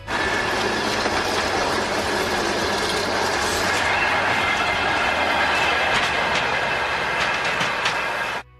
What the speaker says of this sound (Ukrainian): Останні хвилини і поїзд вирушив на Київ